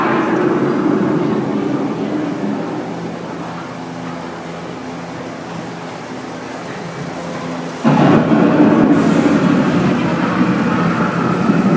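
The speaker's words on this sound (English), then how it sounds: "The approaching storm may seem violent and destructive to us, but to nature, it's a new beginning in the cycle of life." Rumbling thunder and steady rain from a simulated storm scene on the Epcot Living with the Land boat ride, a continuous loud wash that swells suddenly partway through, with a narrator speaking over it.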